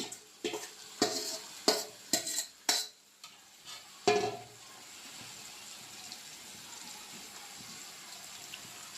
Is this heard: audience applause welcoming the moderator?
no